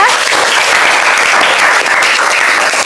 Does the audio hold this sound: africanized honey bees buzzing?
no